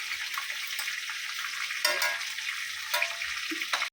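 Chicken pieces frying in hot oil for a Mughlai red chicken dish, a dense, continuous close sizzle with a few spoon scrapes and clacks breaking through, no talking.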